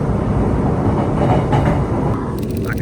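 A train rolls steadily past at a theme park area, giving a continuous loud rumble with faint wheel clatter that holds throughout and fades slightly at the end.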